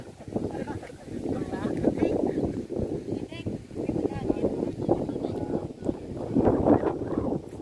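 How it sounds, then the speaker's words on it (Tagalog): Strong outdoor wind buffets the microphone in rough, uneven gusts beneath almost continuous talking, swelling and dropping throughout. "Sadya ang hangin, no?"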